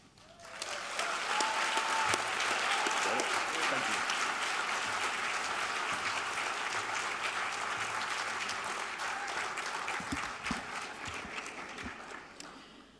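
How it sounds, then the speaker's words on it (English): Sustained, even applause fills the room at a national planning excellence awards ceremony, a broad wash of many hands clapping that rises quickly, holds steady for several seconds and tapers off near the end. "Again, a big round of applause."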